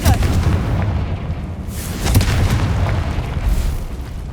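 A Confringo blasting curse in a Harry Potter video game, heard as heavy booming blasts, one near the start and another about two seconds later, with a rumbling tail between them.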